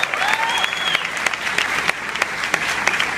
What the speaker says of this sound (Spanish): Dale a Dios un aplauso fuerte por esa invitación que Él nos hace.